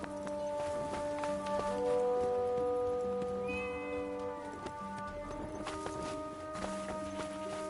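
A cat in the video game Forspoken meows several times in clear, drawn-out tonal cries over soft footsteps and quiet background ambience.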